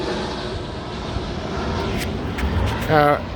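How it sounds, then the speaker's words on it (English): An airplane passes overhead near an airport, a broad steady engine drone behind a boat dock, rising slightly toward the end as a person speaks over it. "Sorry, I got an airplane."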